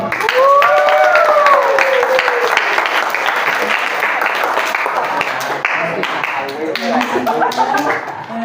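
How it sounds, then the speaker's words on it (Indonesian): An audience of students at a medical faculty sex-education outreach event breaks into loud, dense applause, with whoops and cheering voices over the clapping early on and chatter surfacing toward the end. "saya persilakan untuk sekarang beri tepuk tangan dulu dong"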